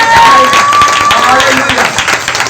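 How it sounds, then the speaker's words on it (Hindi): A congregation at a Sunday revival meeting claps loudly in a fast, rhythmic stream of hand claps. Crowd voices and a high whistling tone ring over the clapping. "उसका जोर से तालियां बजाएं।"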